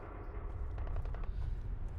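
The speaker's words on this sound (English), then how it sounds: "We're hearing gunshots though." Gunfire in the Fallout 4 zombie mod Zombieland Conquest: Reanimated, a dense, steady rattle of shots over a low rumble lasting the whole stretch, with a few sharper cracks standing out in the middle.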